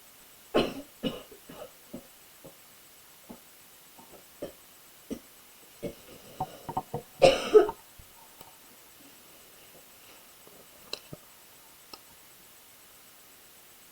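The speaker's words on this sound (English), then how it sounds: "Sorry about the coughing in the background." Faint coughing in the background, with a harsher burst midway, among scattered soft clicks and taps in a quiet room.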